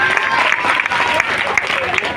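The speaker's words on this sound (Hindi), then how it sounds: "उनके लिए भी जोरदार ताली लगनी चाहिए।" Audience applause at a Teacher's Day event honoring a teacher, a dense, steady wash of clapping from a crowd that stays loud and continuous throughout.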